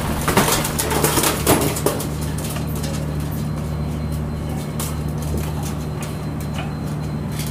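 A white pelung turtle dove coos in a bird collection, with repeated soft calls over a constant low hum and scattered sharp clicks and rustles, and no talk.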